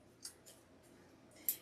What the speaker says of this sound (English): if y'all don't have a pair of these scissors right here